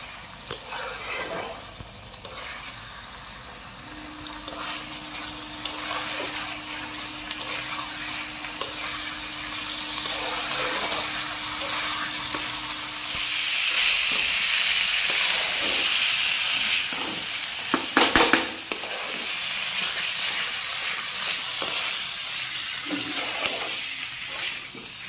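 Chicken gizzard sautéing with turmeric, cumin, coriander and chili powder in a pan gives a steady sizzle and hiss, with stirring scrapes throughout and a louder steamy burst partway through.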